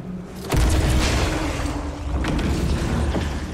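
Gunfire in the video game Somerville: a sudden heavy boom erupts, then a dense, loud rumble carries on, with a few sharper cracks later in the burst.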